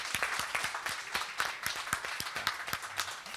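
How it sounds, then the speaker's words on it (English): An audience at a university speakers-series event gives a round of applause, a modest crowd clapping with distinct, uneven hand claps throughout, moderately close and without any talk. "I think that deserves a round of applause"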